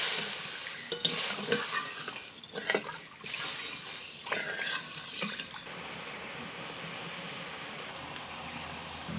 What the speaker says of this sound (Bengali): মশলা কষা হয়ে গেছে, এবার জল দিয়ে দিচ্ছি।